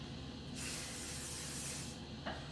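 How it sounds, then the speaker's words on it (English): Hairspray misted onto short hair with hair extensions, one steady hiss of spray lasting over a second, close and fairly loud. "you're going to take your hairspray and you're going to hairspray the shit out of it"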